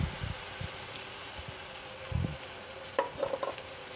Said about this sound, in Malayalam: നമുക്കിത് ഇളക്കി നന്നായി യോജിപ്പിക്കാം